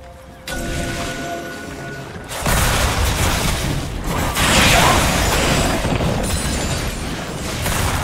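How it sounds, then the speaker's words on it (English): A turret is destroyed in League of Legends amid dense, loud game audio, with mechanical grinding, rumbling booms and crumbling debris layered continuously throughout. "Blue team's turret has been destroyed."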